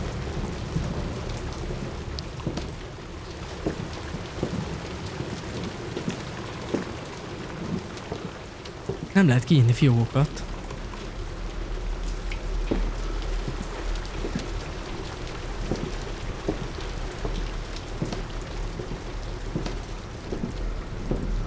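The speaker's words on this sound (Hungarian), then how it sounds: "Esik az eső." Steady rain falls throughout a stormy scene in the horror video game Supernormal, with a brief rumble of thunder midway; faint speech comes through at one point.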